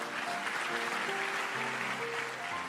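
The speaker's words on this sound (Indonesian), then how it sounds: "Yang percaya kasih tepuk tangan untuk Tuhan." Dense, steady applause from a church congregation, with faint tonal sounds of music or voices underneath.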